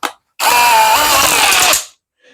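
A power drill drives a screw into a shower safety handrail mount in one sustained whirring burst of about a second and a half, loud and close, ending with a short tail.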